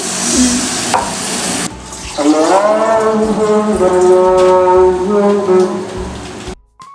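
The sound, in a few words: potatoes frying in a pan as water is added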